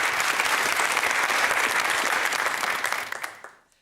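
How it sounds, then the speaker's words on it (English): Audience applause fills a televised quiz-show studio: steady, dense clapping from a crowd that holds at full strength for about three seconds and then quickly dies away. "It's nice to see you guys applauding each other as well."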